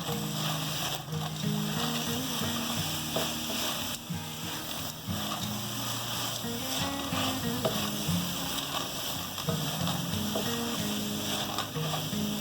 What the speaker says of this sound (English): our green seasoning, we're going to give this a mix